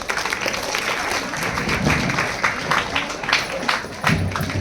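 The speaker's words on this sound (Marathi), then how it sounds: "जोरदार टाळ्यांचा कडकडाट" An award ceremony audience applauds steadily, with dense, sustained clapping throughout and a few louder bursts near the end.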